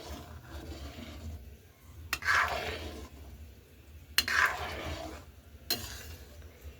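A milk mixture being stirred in a pot, soft scraping strokes with two louder clattering swipes of the spoon against the pot, fairly quiet with no voices.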